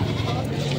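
Goat bleating briefly up close at a livestock market in Padre Garcia, Batangas, under a dense background of overlapping voices and crowd noise.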